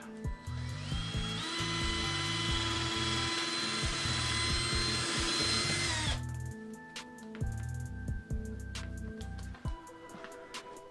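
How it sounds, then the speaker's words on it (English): A power drill whines steadily at high speed for about six seconds while drilling out plugged sections of a craft build, then stops, followed by quieter handling clicks and knocks. "the only thing I can think of doing is drilling these out"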